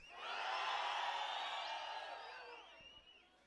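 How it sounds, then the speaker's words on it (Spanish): A crowd of men at a town fair shout together on cue, a loud sustained collective yell that swells quickly, holds for about two seconds and then fades out. "Primero que griten los hombres a la de tres."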